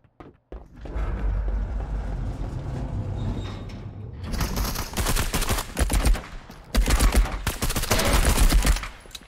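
Rifle gunfire in the Marauders shooter game, loud bursts of rapid shots interrupted by a gap of mechanical handling noise, close and sharp.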